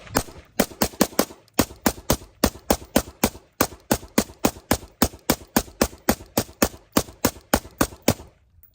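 Rifle fire through an Otter Creek Labs Polonium K suppressor, a rapid, steady string of sharp, muffled shots in quick bursts with brief pauses between magazines, loud and close throughout.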